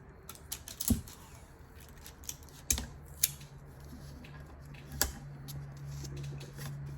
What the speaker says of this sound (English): And then you want to start taping tightly.